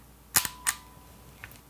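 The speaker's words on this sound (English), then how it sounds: "that tactile sound, the clicking of winding it up, resetting that next roll of film, and then cocking your shutter lever" A vintage Kodak Pony IV 35mm film camera gives crisp, close mechanical clicks as it winds and fires: a quick double click, a second click a moment later, then a faint tick.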